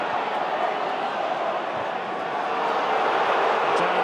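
Football crowd at Ewood Park, Blackburn, during an FA Cup quarter-final replay against Millwall, a steady broad wash of distant stadium noise echoing around the ground with no distinct chants or peaks.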